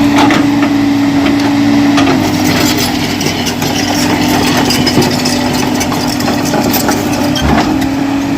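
A rail track machine's engine runs at a rail yard during rail work, a loud, steady mid-pitched drone with a constant hum and some knocks and clatter over it, close by.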